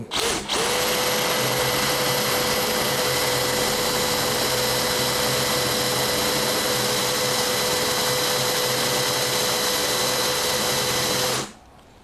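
DeWalt DCD805 cordless impact drill boring a half-inch hole at low speed setting, a loud steady high-pitched motor whine with grinding underneath, running for about eleven seconds before stopping.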